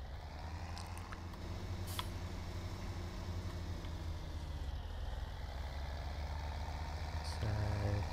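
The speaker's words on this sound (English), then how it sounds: "Hate reversing a tractor." Tractor engine in Farming Simulator 17 running steadily while reversing, a continuous low rumbling drone with a slight rise near the end, no talk.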